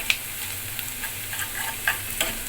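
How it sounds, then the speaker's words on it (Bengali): Onions fry in a pan for a Bengali fish-head muri ghonto, giving a continuous bright sizzle with a few soft ticks and scrapes of stirring, close and without talk. "পেঁয়াজটা ভালো করে ভাজতে হবে"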